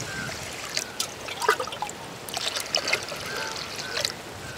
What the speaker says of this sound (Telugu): ఈ రైస్ని 1-2 సార్లు శుభ్రంగా కడుక్కోవాలి.